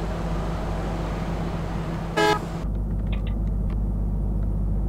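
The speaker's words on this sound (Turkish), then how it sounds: "Kornası biraz aşırı sesli." A Neoplan Starliner bus sounds its horn in a bus driving video game: one loud, brassy, half-second blast that cuts through the steady engine and road rumble.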